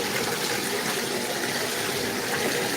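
Water poured or running steadily, a continuous dense gush at even loudness throughout, close and with no pauses or voices.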